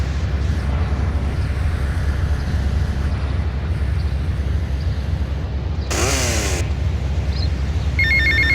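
A payphone rings in GTA Vice City: one short, bright ringing burst near the end of the clip, with a second ring just starting at the very end, over a steady low in-game rumble.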